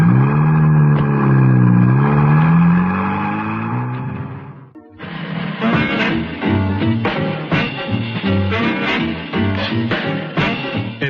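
Car engine idling with a wavering hum, then a sharp cut to a revving engine as the car pulls away, loud and close with rising gear changes, staged as a radio drama sound effect.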